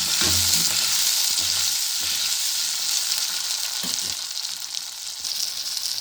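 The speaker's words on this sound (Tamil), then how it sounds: "இப்போ இது எல்லாமே நல்லா வதங்கட்டும் ஃப்ரெண்ட்ஸ்." Tomatoes, garlic and green chillies sauté in a pan for an Andhra-style tomato and coriander chutney, giving a steady, close sizzle with occasional soft stirring knocks and no talking.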